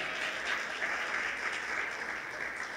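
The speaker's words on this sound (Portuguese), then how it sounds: "Quem pode aplaudir o Senhor por isso?" A church congregation claps together in a sustained, even wash of applause, somewhat distant and soft, with no speech over it.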